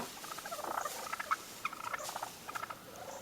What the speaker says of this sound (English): And here's what it sounds like on a real turkey.